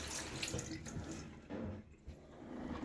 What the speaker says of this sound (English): I'll take the finger that I used to press everything in, I'll wash it.